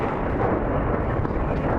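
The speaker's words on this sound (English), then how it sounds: "Another explosion, but this one's controlled." A dense, sustained roar from a controlled explosion in Ukraine during the Russian invasion, broad and rumbling, with no distinct onset, like the drawn-out aftermath of a blast.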